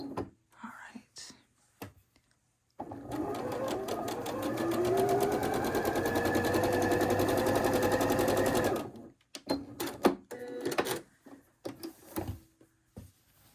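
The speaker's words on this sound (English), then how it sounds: "just sew a straight seam" Sewing machine stitching a straight seam on a quilt block, a close, fast, steady mechanical whirring run of about six seconds, with quiet whispered talk and handling noises before and after.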